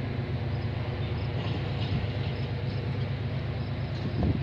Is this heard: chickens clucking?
no